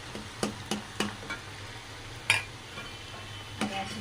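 Lentil dal being stirred with a spoon in hot oil, giving a few sharp spoon scrapes and clinks against the pan over a low sizzling bed, with one louder knock near the middle.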